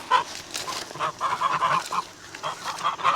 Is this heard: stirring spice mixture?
no